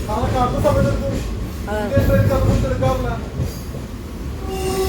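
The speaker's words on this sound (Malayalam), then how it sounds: "ഫൈനലി ഗൈസ് നമ്മൾ ട്രെയിൻ കയറിയിരിക്കുന്നു" Steady rumbling of a moving train carriage heard from inside, with voices talking over the rolling noise throughout.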